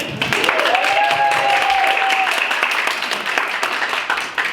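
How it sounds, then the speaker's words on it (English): Audience applause at a marketing workshop, a steady dense wash of clapping with cheering voices, loud and close, holding for several seconds before easing slightly. "let's give them a huge round of applause for writing books"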